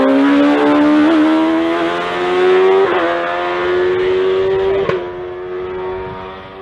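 Turbocharged, supercharged 1400cc hill climb race car accelerating hard through the finish at Gurston Down, a loud, close engine note rising in pitch with sharp gear-change blips, then fading slightly as it passes.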